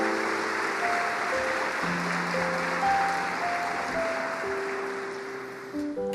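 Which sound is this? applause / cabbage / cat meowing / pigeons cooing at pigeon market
applause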